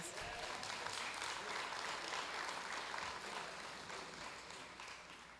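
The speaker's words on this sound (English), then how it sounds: "We can give them a round of applause again, please." Audience applause fills a graduation ceremony at a preparatory academy, a steady dense clapping from a large crowd that holds evenly and then eases slightly toward the end, with no talk over it.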